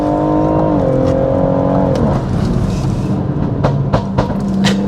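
A stage 2+ tuned BMW M140i accelerates hard at full throttle with traction control off, its engine note climbing loudly through the revs before dropping into a rumble with sharp exhaust pops and crackles.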